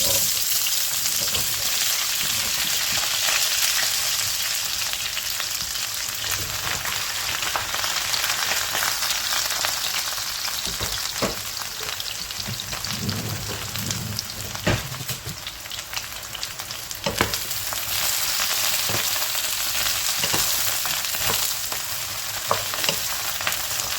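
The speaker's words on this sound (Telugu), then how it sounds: "కాగిన నూనెలో ఇప్పుడు వంకాయ ముక్కలు వేసేద్దామండి" Eggplant pieces fry in hot oil with a loud, steady sizzle and crackle that runs throughout, broken by occasional stirring clinks and pops, with no talking.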